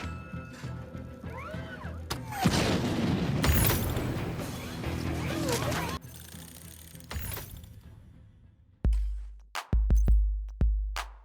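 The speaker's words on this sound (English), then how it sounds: "Unofficially, we want to shoot tiny rockets like Tony Stark." Tiny rockets fire and blow up in The Division 2 as a string of whooshes and crashes, ending in several sharp close explosions in quick succession that each fade out, loud with no speech.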